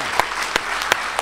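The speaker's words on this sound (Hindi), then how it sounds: "एक बार जोरदार तालियां बजाओ" An audience claps at a Hindi poetry gathering in Mumbai, a brief burst of steady crowd applause with a few louder individual claps standing out.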